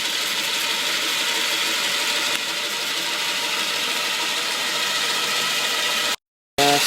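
A Triang Princess Elizabeth model locomotive running smoothly, a steady close mechanical whirr with a faint ratcheting gear buzz, continuous until an abrupt brief cutout near the end.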